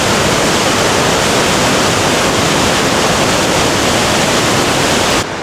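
River water rushes under a natural rock bridge in a loud, steady, broadband roar that holds constant throughout and cuts off abruptly at the end, with no voices.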